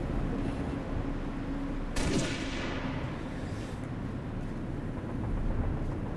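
Gunfire in the video game Halo: Reach, a steady wash of distant battle noise with a sharper burst of shots near the two-second mark, then continuing rumble without speech.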